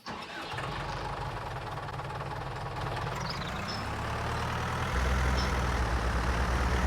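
Tractor engine running steadily in Farming Simulator 19, a continuous low mechanical drone that starts up and grows slightly heavier and louder toward the end, heard alone without talk.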